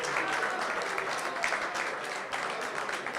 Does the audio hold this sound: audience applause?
yes